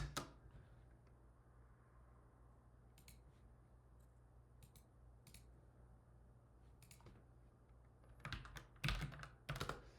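Keyboard shortcuts are tapped on a computer keyboard: sparse, quiet clicks scattered through a low background hum, then a quicker cluster of keystrokes near the end, with no talking.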